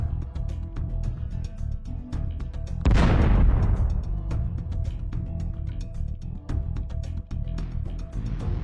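An FPV drone rams a basement entrance on a battlefield and explodes: one sudden loud blast about a third of the way in, followed by a long rumbling decay over steady background noise.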